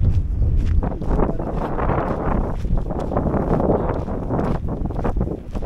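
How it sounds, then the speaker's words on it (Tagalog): Gusty wind buffets the microphone in a steady, rumbling rush with no voices, rising and falling in strength throughout, at a beach with rock formations. "mahangin ang panahon. Kaya malamig."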